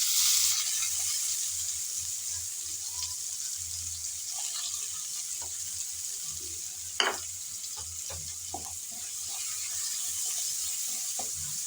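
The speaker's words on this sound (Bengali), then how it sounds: "চিংড়ি ভাজার তেলে দিয়ে দেব এখন পেঁয়াজ কুচি" Chopped onions sizzle steadily in leftover prawn-frying oil, a constant close hiss with a few scraping stirs and a sharp clink partway through.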